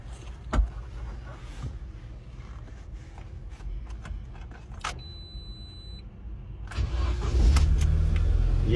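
A car engine starts with a sharp burst, then settles to a low idle with the heater fan running. Clicks, rattles and a brief electronic beep come before it.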